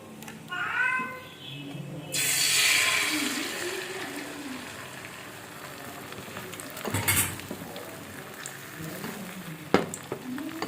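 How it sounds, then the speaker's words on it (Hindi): Beaten egg poured into hot oil, frying with a steady bright sizzle that swells, then settles into a softer crackle with occasional clinks of a utensil. "अब हम इसके अंदर जो है ना बीट किया हुआ एग डालते हैं"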